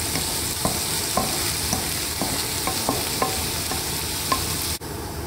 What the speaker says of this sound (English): I've taken 3 green chilies and I've just slit them. I'm going to drop these in